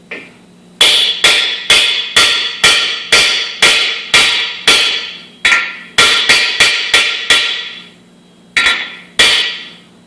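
A socket is hammered into a Chevy 350 engine with a series of sharp, loud metallic blows in a steady rhythm, a short pause, then two more strikes; no speech.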